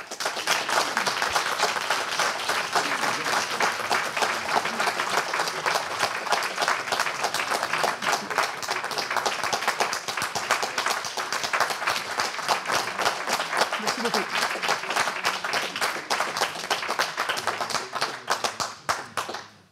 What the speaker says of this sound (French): tous ceux qui ont applaudi, je ne peux que vous remercier chaleureusement, Yves Le Maner